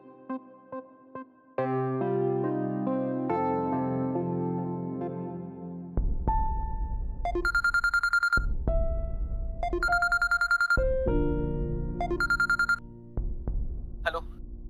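A landline telephone rings in a Marathi TV serial scene, the tone repeating in several loud, bright bursts that follow a stretch of dramatic background music.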